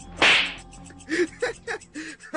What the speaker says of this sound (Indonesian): sebuah tamparan yang cukup keras ia layangkan pada laki-laki yang mencoba kurang ajar itu